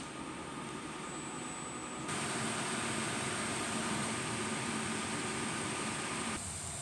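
A DTF printer runs a nozzle test, giving a steady, close mechanical whir and hiss that steps up louder partway through and holds constant.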